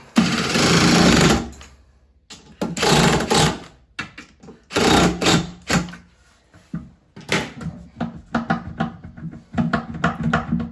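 A power driver tightens screws into a door hinge in bursts of whirring, several short runs separated by pauses, loud and close with clicks and handling knocks between.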